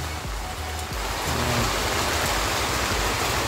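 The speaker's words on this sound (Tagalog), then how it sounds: "So sana lumakas pa yung ulan." Steady rain pattering down, a dense continuous wash of drops that grows slightly heavier partway through.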